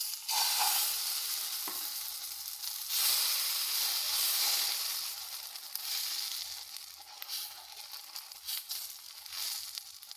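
Dosa batter made from maida sizzles steadily in a hot pan on the stove, a close, continuous crackling hiss with occasional swells and scraping stirs, no voices.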